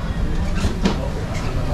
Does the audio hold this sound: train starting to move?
yes